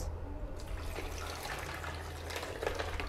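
Water poured from a container into a blender jar already holding glass and ice, a soft, quiet trickling splash that runs continuously for a few seconds with faint background hum.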